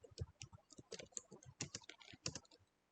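Brisk typing on a computer keyboard, a quick irregular run of close crisp key clicks with a few louder strokes, no talking.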